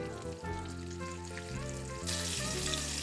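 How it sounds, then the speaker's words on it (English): Steady hiss and crackle of apple slices frying in hot cooking oil, continuous and close, with a low tonal hum underneath and a brighter sizzle burst toward the end. "we're starting to drop our apple slices here in our cooking oil"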